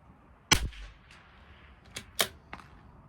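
Rimfire rifle shots firing CCI Standard Velocity ammunition at a 100-yard range, with a sharp crack followed by three fainter, quicker pops, each short and percussive against a quiet background.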